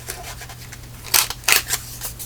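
Scissors snip through craft paper scraps in a few sharp, close, crisp cuts, with two louder snips standing out over quiet background hum.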